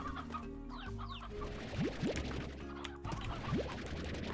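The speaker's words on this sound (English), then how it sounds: "Oh, we didn't mean to take the rooster out." Chickens and a rooster in the video game Slime Rancher cluck steadily, with short rising squawks and occasional knocks over a constant game soundtrack, loud and close.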